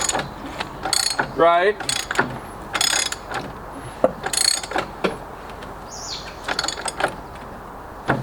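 A ratchet turning over the engine of a 1967 Mustang by hand, sharp clicking strokes in bursts with pauses between pulls, the engine stiff in spots; someone speaks briefly.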